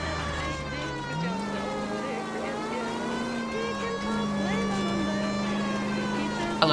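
A police siren in the LA Noire video game wails with gliding, steady tones, moderately faint and blended with game music and vehicle noise throughout.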